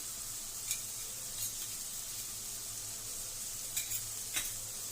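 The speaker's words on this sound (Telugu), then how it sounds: "అల్లం వెల్లుల్లి పేస్ట్ వేసుకొని పచ్చివాసం పోయేంత వరకు వేపుకోవాలి" Chicken liver pieces frying with ginger-garlic paste, a low, even sizzle with occasional light stirring clicks over it.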